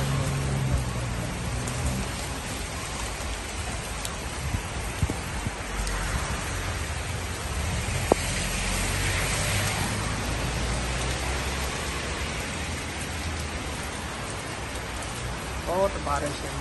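Heavy rain falls steadily in a broad, continuous hiss, with a few drops hitting nearby surfaces and occasional brief voices in the background throughout.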